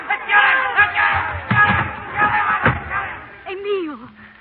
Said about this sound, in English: The crowd. They're after me.